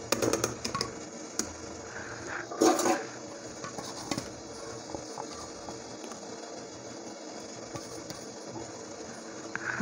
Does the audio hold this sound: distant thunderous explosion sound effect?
no